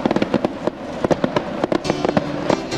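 Fireworks at a Tokyo fireworks festival: rapid, irregular bursts of bangs and crackles, some overlapping, loud and fairly close, with no talk.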